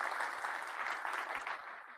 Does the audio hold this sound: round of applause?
yes